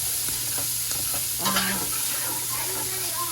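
Beef bacon frying in a pan for Hoppin' John, a soft steady sizzle with a faint hum and a few light clinks, quiet and close.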